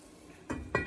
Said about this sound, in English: And I'm going to put the lid on.